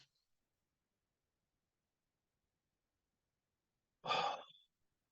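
One deep inhaled breath during a guided meditation, near and soft, comes after several seconds of near silence and is followed by quiet again.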